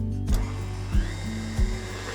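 An electric mixer beating sour cream and vanilla cake batter on high speed. A loud, continuous motor whine, close by, with three periodic thumps as the beaters knock the bowl. No voices.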